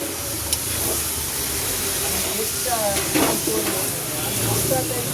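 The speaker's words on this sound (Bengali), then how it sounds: "একটু নাড়িয়ে নিই" Chicken, spinach and garlic sizzle and crackle in a hot pan while a utensil scrapes and stirs through them, with a few clinks and a voice murmuring faintly.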